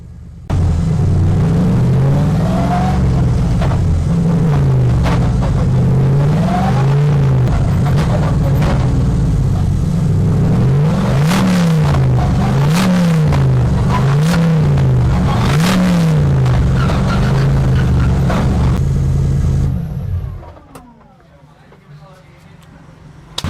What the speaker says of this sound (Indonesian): Jadi ya gue mau manasin gearbox dulu, kurang lebih kayak gini.